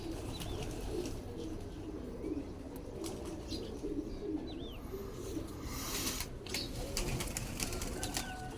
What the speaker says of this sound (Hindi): गोल्डन कबूतर आ गया जी हमारे पास